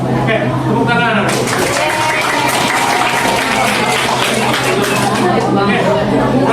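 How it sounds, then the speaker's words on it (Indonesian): Audience applause in a classroom during a teaching practice lesson: a steady, dense wash of clapping from a group of students, loud and close throughout, with chatter mixed in. "Oke, tepuk tangan."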